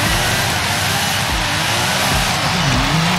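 Diablo GTR in Forza Horizon 5 holding a loud, steady high engine drone that surges slightly in revs, with no voices over it.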